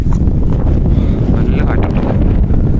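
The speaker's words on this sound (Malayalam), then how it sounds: "ഭയങ്കര കാറ്റാണ് കേട്ടോ" Strong wind roars and buffets the microphone on the exposed hilltop of Illikkal Kallu in Kerala, a loud, continuous rumbling gust with no letup.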